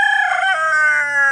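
A homestead rooster crows once, close and loud, a single drawn-out call lasting about a second, with no other sounds.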